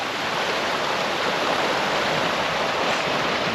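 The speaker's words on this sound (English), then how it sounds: "Again, there's the creek." Rushing creek swollen by floodwater after a hard April rainstorm, a loud, steady broadband roar of churning water that stays even and close throughout, with no voices.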